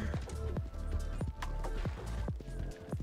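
A horse's hooves clip-clop in a running rhythm in the video game Red Dead Online, a rapid, close sequence of sharp strikes over a low ambient bed, heard alone.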